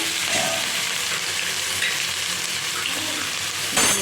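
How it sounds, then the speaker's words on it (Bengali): Vegetables for chow mein fry in hot oil, a steady close sizzle filling the whole stretch, with a brief louder spatter near the end. "সবজিগুলো ভাজা হয়"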